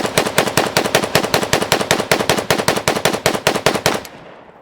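Century Arms BFT 556 AK-47 rifle fires a rapid string of about twenty evenly spaced loud shots, a sharp rhythmic burst that stops abruptly and leaves a short fading echo.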